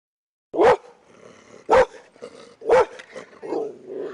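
A dog barks at a house door: three sharp, loud barks spaced about a second apart, with softer whimpering and huffing sounds between them and no talking.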